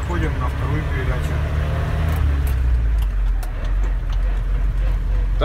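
A GAZelle 402 van fitted with a Toyota 1UZ engine drives in second gear, its steady engine drone and road rumble running close and continuous while someone talks over it.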